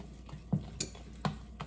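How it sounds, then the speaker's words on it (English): Eggs are whisked into cashew butter and applesauce, with soft, rhythmic taps of the whisk against the bowl recurring about every half second, quiet and close. "I'm just kind of whisking the eggs into the cashew butter and applesauce."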